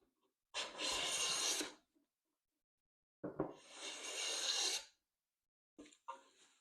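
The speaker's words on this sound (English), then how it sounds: "number 3 size smoother. Making shavings." Sargent transitional hand plane, a number 3 size smoother, taking wood shavings in three passes: two long, loud rasping strokes about a second each, then a shorter, fainter broken stroke at the end, with silence between.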